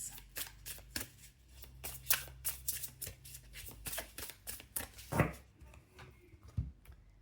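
Tarot cards shuffled and cut by hand, a quick run of crisp riffling slaps and soft flutters in an uneven rhythm, close by and fairly quiet.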